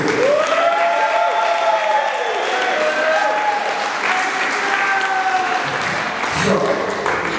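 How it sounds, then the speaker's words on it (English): A crowd applauds steadily for several seconds, with cheers and whoops rising above the clapping. "Can I please get a round of applause for these two?"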